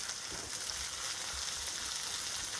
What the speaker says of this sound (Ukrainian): Зараз дамо трішки цибулі ще підсмагнути і тоді перемішаємо нашу страву.